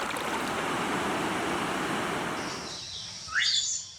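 Strong mountain river current rushing loudly and steadily, swollen after heavy rain, with a short bird chirp rising over the fading water near the end.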